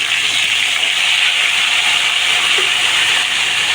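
Loud, steady sizzling hiss of lemon pickle poured into hot oil with popped mustard seeds, a dense continuous crackle with no talking.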